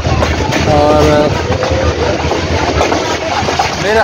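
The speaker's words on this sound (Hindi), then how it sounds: "ये रेलवे स्टेशन से ट्रेन मुकम्मल तौर पे निकल आई है" A passenger train on the Rawalpindi to Khanewal line rumbles loudly as it pulls out of a large station, wheels clattering and carriages rattling in a continuous close-up roar with squealing metal tones.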